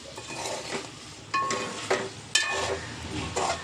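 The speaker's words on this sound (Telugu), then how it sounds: "మనం కట్ చేసి పెట్టుకున్న ఉల్లిపాయలు ఒకసారి కలుపుకోవాలి." Chopped onions frying in a pan for Andhra-style chicken curry are stirred, with a steady sizzle broken by several distinct scraping strokes of the spoon against the pan, close and fairly loud.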